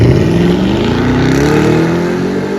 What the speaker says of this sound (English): Do you just turn the V8 on and it just goes crazy?